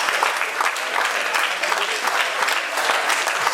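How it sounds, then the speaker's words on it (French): Festival crowd at a national holiday celebration in Breakeyville, Lévis, Quebec, clapping loudly and steadily throughout, a dense continuous wash of applause without pause. "Ça vaut des applaudissements, 46 ans"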